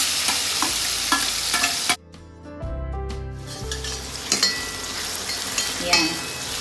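Tomato dropped into a hot pan of oil with mustard and cumin seeds, a loud broadband sizzle that briefly cuts out, then returns with clattering utensil taps and stirring scrapes, close and continuous.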